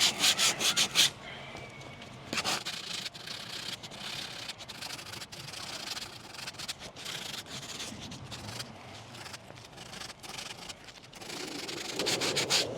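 Hand sanding of a kayak keel with 100 grit sandpaper, repeated rough rubbing strokes in an uneven rhythm, close and fairly loud, without talk.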